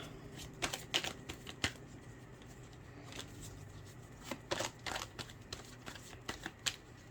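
Tarot cards being shuffled by hand, bursts of quick papery riffling and flicking at irregular intervals, close and moderately quiet over a faint steady background hum, with no talking.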